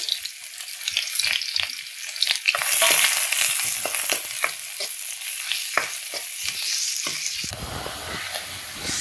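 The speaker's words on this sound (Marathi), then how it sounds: "हे बघा, तेल गरम झाले, आता मी त्यामध्ये कांदा परतून घेते।" Finely chopped onion sautés in hot oil for a spiced chicken dish, with a continuous close sizzle and repeated scraping stirs of a spatula, loud and alone.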